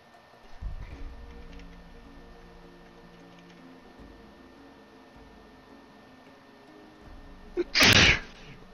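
A single sudden sneeze bursts out loudly near the end, close and brief, after a stretch of quiet room hum and faint background noise from a gaming session.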